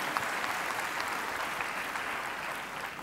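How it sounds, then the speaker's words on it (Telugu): A church congregation at a Telugu sermon claps loudly and continuously, a sustained dense wash of many hands that stays even for several seconds. "గట్టిగా చప్పట్లు కొట్టి ప్రభునామమును మహిమపరచండి"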